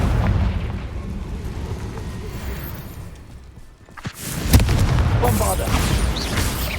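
Confringo spell explosion in Hogwarts Legacy, a loud booming blast that bursts out after a brief lull, followed by rumbling debris and continuous action noise, with a voice speaking over it.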